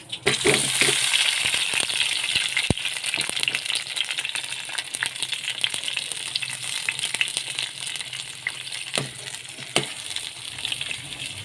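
Tomatoes sizzle steadily in hot oil in a pan for a Telugu ridge-gourd peel chutney, a dense crackling hiss running throughout with occasional sharp clinks and stirring scrapes.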